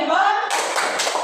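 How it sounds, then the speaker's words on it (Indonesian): Schoolchildren in a primary classroom break into a quick rhythmic thumbs-up clap, a burst of several sharp hand claps following a voice at the start. "Kita kasih tepuk jempol untuk kelompok 2 dulu"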